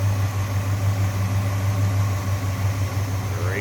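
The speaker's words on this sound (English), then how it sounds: "Great sounding engine, very smooth." A 1966 Ford Fairlane 500 GT convertible's V8 idles smoothly and steadily up close, a low even rumble running throughout with no talk over it.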